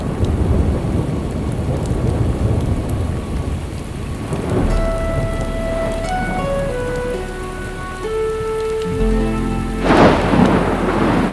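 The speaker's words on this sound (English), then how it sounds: "Short but heavy tropical rain showers enchant the old town." Heavy tropical rain pours down over the old town of Trinidad, a dense steady hiss of drops on stone and roofs, with thunder rumbling and soft musical tones running underneath.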